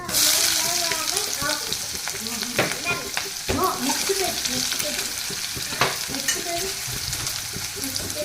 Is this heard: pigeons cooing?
no